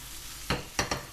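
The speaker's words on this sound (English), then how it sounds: "So we see we've got the brown butter" Brown butter for gnocchi sizzles faintly in a pan, broken by three short, sharp bursts of sizzle or stirring in quick succession.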